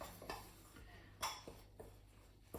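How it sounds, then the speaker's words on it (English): A spoon stirring cheese scone mixture in a bowl, giving light scraping clinks and taps against the sides at an irregular pace, close and fairly quiet. "Stir it round with your spoon."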